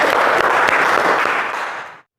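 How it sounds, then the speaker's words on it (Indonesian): Applause from an audience of teachers and students at a morning classroom session, a dense, continuous burst of clapping close by that fades out after about two seconds. "Tepuk tangan untuk kita semua."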